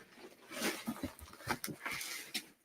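A puppy whimpers and snuffles close by in a series of short, uneven whines and soft squeaks, with no talk over it.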